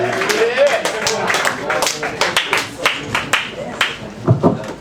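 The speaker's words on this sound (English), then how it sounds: "Let's have a big round of applause for Jason T. Kocher" Open-mic comedy crowd claps for a comedian coming on stage, scattered individual claps and cheers, thinning into separate sharp hand strikes with a voice over them.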